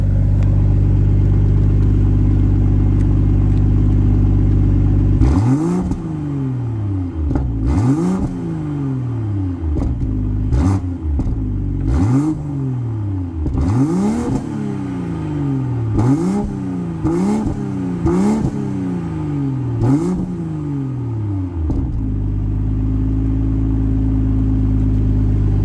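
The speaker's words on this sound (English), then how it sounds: "we'll take it outside, and we'll hear some exhaust sounds" A 2024 BMW M240i in Melbourne Red Metallic, warmed up and idling, then repeatedly revved so its exhaust rises and falls in about a dozen sharp, loud blips over a steady rumble before settling back to idle; no talking.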